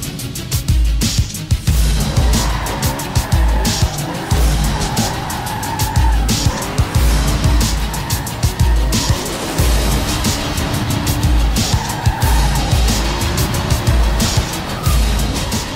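An Acura Integra Type-R drifting in the racing game Forza Horizon 2, its engine roaring continuously while the tires squeal and skid in long sustained screeches, loud and close throughout.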